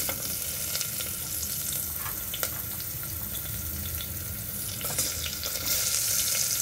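Onion frying in oil with spices and asafoetida, a steady sizzling hiss with a few stirring scrapes and clinks, continuous and close, with no voices.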